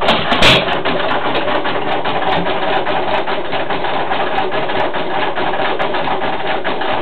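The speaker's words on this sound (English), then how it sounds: "That's a nice engine, Fred." A 5hp Jaeger engine runs steadily at idle, giving off a loud, continuous mechanical chatter with a fast, even rhythm and a brief clank near the start.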